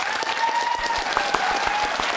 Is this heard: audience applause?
yes